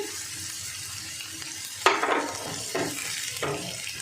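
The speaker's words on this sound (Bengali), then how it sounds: "এই আদা রসুনটা একটু ভেজে নেব। দেখুন, আদা রসুনটা মোটামুটি ভাজা হয়ে গেছে।" Ginger and garlic frying in a pan for a chickpea kebab, a soft steady sizzle with a sharp burst of stirring midway and further scraping strokes after.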